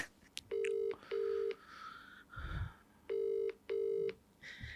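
Push-button phone keys dial a call, four steady electronic tones in two pairs, loud and close, with faint room noise and a low thump between them.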